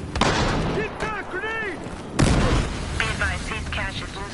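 Grenade blast in Battlefield Hardline multiplayer: a sharp, loud burst hits near the middle, with scattered gunfire and voiced radio chatter around it.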